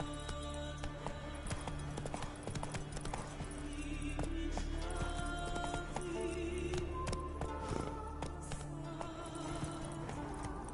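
A horse gallops in The Witcher 3 role-playing game, steady rhythmic hoof clip-clops continuing throughout at moderate volume, with faint background game ambience and no speech.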